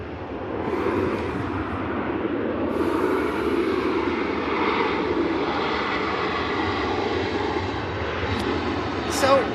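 Aircraft engines at Manchester Airport, a broad distant roar that swells and holds steadily across the whole stretch, with no talking over it.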